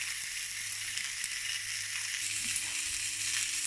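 Pork searing rind side down in a hot pan gives off a steady, close, crackling sizzle with a bright hiss that holds at even loudness throughout, with no voices.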